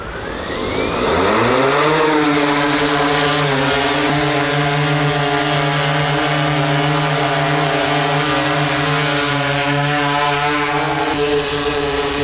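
A DJI drone, Inspire 2 or Phantom 4 Pro, spins up its propellers with a rising whine and lifts off. It then holds a loud, steady buzzing hum close by with slight pitch shifts.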